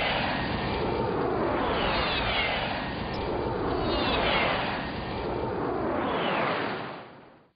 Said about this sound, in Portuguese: Na simulação, você percebeu um avião soltando uma bomba